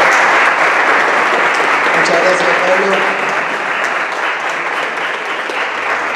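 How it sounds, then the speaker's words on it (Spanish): Audience applause at a free software conference in Tandil, a steady broadband clapping that fills the whole stretch at fairly high volume, with a voice speaking briefly over it. "un aplauso."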